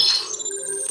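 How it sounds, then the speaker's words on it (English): A mobile phone rings with a bright, steady electronic tone, close and fairly loud, continuing through the whole second with no talking over it. "My phone was ringing at the same time."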